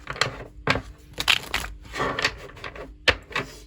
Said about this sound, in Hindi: मैं कार्ड्स को एक बार शफल कर लेती हूँ।